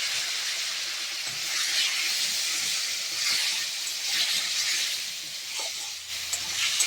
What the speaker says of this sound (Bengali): এবার আমি কিন্তু ভালো করে কষিয়ে নেব। আর কষানোর সময় সামান্য একটু জল দেব